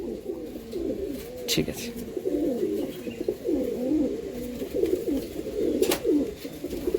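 Madrasi madha tournament pigeons, fulchira type, held for sale in Amta, Howrah, coo in repeated soft rolling phrases close by, while someone speaks briefly.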